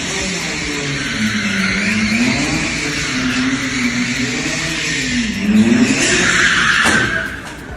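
Ferrari sliding sideways in a drift, its engine droning steadily and rising in pitch as it revs, with tyre scrub building to a louder burst near the end before fading.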